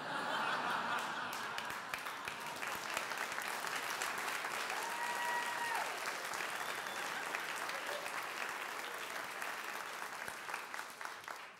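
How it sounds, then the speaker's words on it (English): Audience at a performance for the president and first lady breaks into sustained applause mixed with scattered chuckles and laughter, a dense wash of clapping that holds steady and fades slightly near the end. "What are you laughing and clapping about?"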